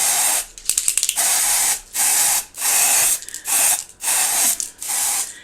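A spray bottle pumped repeatedly onto a curly wig turned inside out, short hissing bursts in a steady rhythm with brief pauses between, close and fairly loud, no talking.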